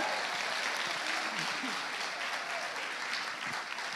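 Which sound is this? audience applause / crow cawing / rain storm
audience applause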